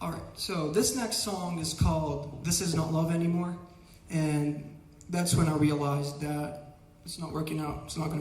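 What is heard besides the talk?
No everyday noises stand out.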